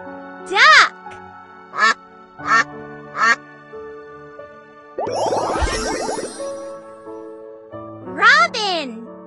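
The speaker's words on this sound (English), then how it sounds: "Duck!" Duck quacking from a children's bird-learning sequence: several loud, separate quacks near the start, then a burst of mixed noise and a final drawn-out quack, with a voice present.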